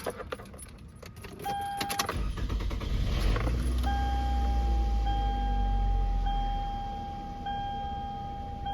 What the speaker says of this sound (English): You get in your vehicle and you start it up.